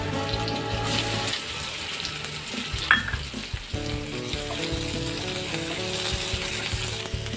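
Chopped onion and slit green chillies fry in a pan with a steady sizzle, joined by a rhythmic mechanical whirring and a sharp clink near the middle, and no one speaks.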